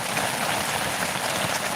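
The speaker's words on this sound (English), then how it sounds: "it's raining like crazy" Heavy rain falls steadily on the Mescalero Apache Reservation in New Mexico, a dense, close, unbroken hiss of drops with no voices.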